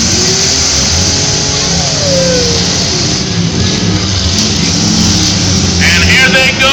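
Engines of demolition derby cars rev and roar at a night heat of the Skowhegan State Fair, a loud, steady, distant-sounding drone across the arena, with an announcer talking over it.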